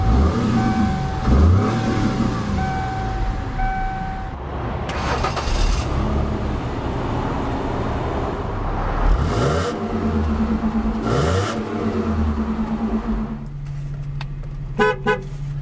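2001 Mercury Cougar V6 starting up and revving, loud exhaust rising and falling through several throttle blips close by, with a steady idle between and a brief engine settle near the end.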